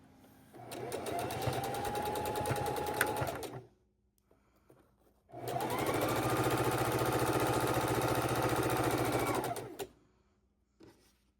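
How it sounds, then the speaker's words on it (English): A sewing machine stitches a quarter-inch seam for quilting half-square triangles in two steady runs of rapid mechanical whirring, about three and four seconds long, separated by a short pause, close and fairly quiet. "I'm going to put them in the sewing machine and sew my 1/4 inch seam across."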